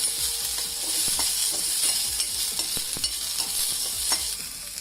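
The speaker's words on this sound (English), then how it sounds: "All the slices of onions will separate in the oil as you cook them on a very low flame." Sliced onions fry gently in oil over a very low flame, a soft steady sizzle punctuated by rhythmic scraping strokes of a spatula, close and without talk.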